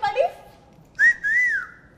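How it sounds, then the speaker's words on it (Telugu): Someone in a studio interview whistles: a short low note, then a brief pause, then a longer rising and falling whistle, clear and close. "నన్ను చూసి విజిల్ కొట్టినట్లేదు కదా"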